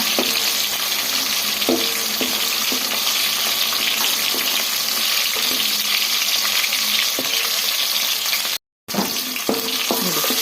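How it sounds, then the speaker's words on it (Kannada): Okra fries in a pan with a loud, continuous close-up sizzle, punctuated by occasional clinks and scrapes of a spatula and one very brief dropout. "ಈ ನಾವು ಫ್ರೈ ಮಾಡ್ಕೊಳ್ಳೋಣ"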